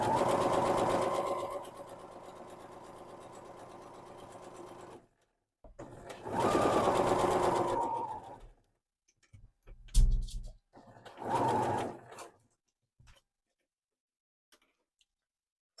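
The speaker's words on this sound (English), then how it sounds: "I'll just show you what it looks like sewing up the other side" A sewing machine stitching along the fold line of a welt pocket, running in three separate bursts of whirring stitches with pauses and soft handling noises between, close and fairly loud.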